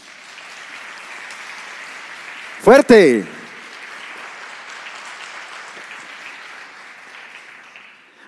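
Church congregation applauding during a sermon, a steady low wash of clapping throughout, briefly interrupted by a loud shouted word from a man.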